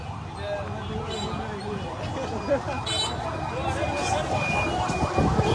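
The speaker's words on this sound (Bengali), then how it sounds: "অ্যাম্বুলেন্সটা জায়গা দেন।" An ambulance siren wails faintly in the distance in street traffic at a crowded rally, partly buried under crowd babble, shouting and vehicle noise throughout.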